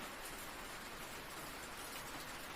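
Steady, dense rain falling outside a cabin, a soft even hiss of drops with no breaks or thunder, gentle and continuous throughout.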